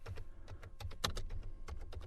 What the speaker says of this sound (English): I'm having trouble typing right now.